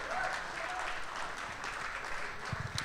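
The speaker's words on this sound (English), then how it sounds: "give them a round of applause" Audience applause rings out at a festive holiday club event in a stadium, steady and moderately loud throughout with a dense, even texture and a few sharper claps near the end.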